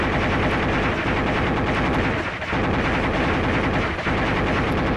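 Dense, continuous rotary cannon fire from a helicopter gunship strafing vehicles in a weapons-course video game, a loud unbroken roar over the full five seconds with only brief dips between bursts.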